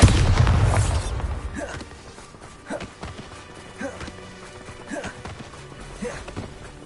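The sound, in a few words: Bombarda explosion spell cast in video game Hogwarts Legacy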